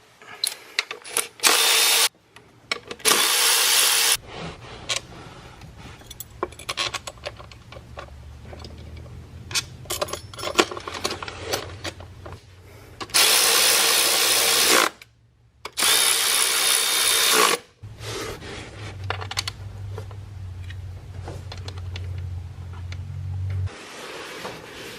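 Power tool whirring in repeated loud bursts while removing 8mm head bolts on a 6.7L Cummins engine during intake manifold installation, with quieter low humming between the bursts.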